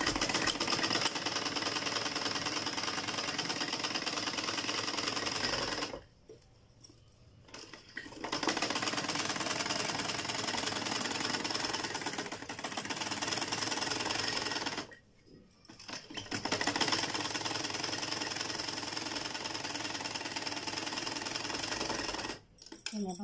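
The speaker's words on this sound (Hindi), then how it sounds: "इस बूट पे नज़र रख के आपने सिलाई स्टार्ट कर देनी है।" A sewing machine stitches a round neckline in long, steady runs of rapid mechanical whirring, stopping briefly twice and once more near the end, close and continuous, with no talk.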